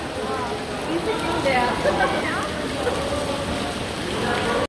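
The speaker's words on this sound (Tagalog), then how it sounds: "Lakas ang ulan." Heavy rain in Dubai pours steadily throughout, a dense continuous hiss with voices talking faintly in the background.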